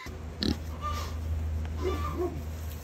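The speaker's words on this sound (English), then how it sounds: "Can you hear the pig squealing?" A pig in a barnyard with chickens grunts and oinks in a few short snorting calls over a steady low background hum, fairly close but not loud.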